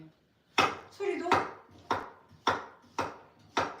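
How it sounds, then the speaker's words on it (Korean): A knife chops steadily on a premium wooden cutting board, about six crisp, evenly spaced strikes ringing close and clear with no talking. "엄마가 요리를 해줄 때 그 도마 소리에 내가 그렇게 기분이 좋아진다는 말씀을 하시는데"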